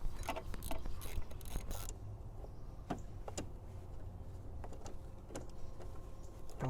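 A ratchet works bolts loose from a plastic cover on a Mitsubishi 3000GT VR4 during a timing belt job, giving sparse, quiet clicks and short metallic ticks over a low background hum.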